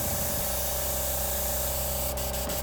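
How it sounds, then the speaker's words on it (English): An airbrush blasts cleaner out in a steady, loud continuous hiss, with a few sharp spitting bursts near the end as it clears, and no voices. "Yeah, spray that out."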